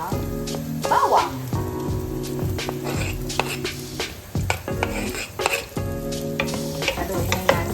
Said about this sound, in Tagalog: Haluin na natin hanggang mag-golden brown po yung bawang.